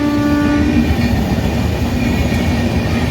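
The Jhelum Express thunders past close by, a loud continuous rumble and rattle of rail cars with a sustained horn blast sounding over the start.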